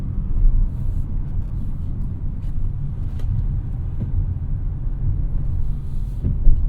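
A 2024 Acura RDX in sport mode with RPMs held high, its engine giving a steady, loud low rumble from inside the cabin, with no talk over it.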